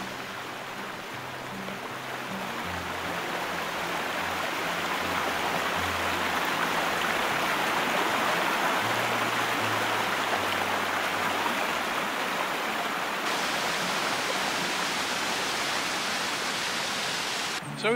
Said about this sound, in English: we're going to cross over the bridge and have a quick look at the waterfall as well